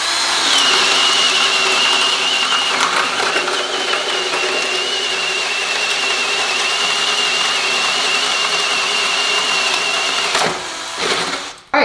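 A power drill bores steadily through wood with a 1.5 inch spade bit, giving a loud, sustained whine for about ten seconds before it winds down and stops.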